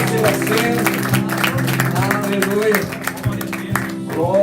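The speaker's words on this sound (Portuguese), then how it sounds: "Dê uma salva de palmas ao Senhor" A church congregation applauds during a worship service, a steady wash of clapping close by that blends with sustained music or sung tones beneath it.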